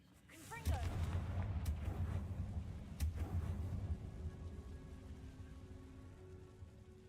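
A Confringo spell explosion in the video game Hogwarts Legacy: a sudden burst of crackling, rumbling blast noise with sharp pops, swelling and then slowly fading over several seconds, fairly quiet overall.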